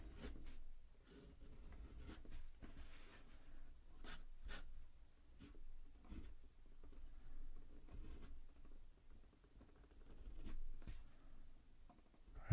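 A fountain pen with a flex nib scratches across paper in close, quiet strokes, with irregular rhythmic scrapes and short pauses between letters, no talking.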